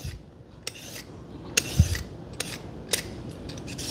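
A cucumber is peeled with a peeler in a kitchen, giving short scraping strokes at irregular intervals, fairly faint and close against a quiet background.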